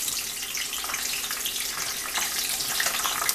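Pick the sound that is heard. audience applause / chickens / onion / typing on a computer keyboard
onion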